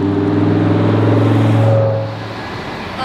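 A sports car on a street near the F1 night racing track in Singapore roars loudly close by, its engine revving strongly before the sound drops away as it passes.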